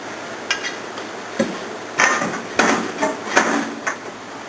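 Metal mounting bar of a LoadAll V3 truck bed slide system being fitted, giving a string of sharp metallic knocks and clanks at irregular intervals, close up and fairly loud, with no talking.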